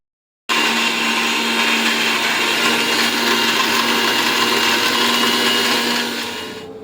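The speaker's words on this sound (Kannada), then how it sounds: "ಇದಕ್ಕೆ ನಾವು ಮಿಕ್ಸಿಗೆ ಈ ಸಕ್ಕರೆಯನ್ನು ಸಹಿತ ಹಾಕೋಬೇಕ್ರಿ" A mixer grinder grinding sugar whirs loudly and steadily for several seconds after switching on, then winds down at the end.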